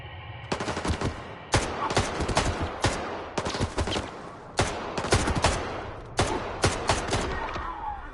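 Repeated bursts of automatic gunfire in Stalker 2, sharp loud volleys in irregular clusters with short pauses and echoing tails between them.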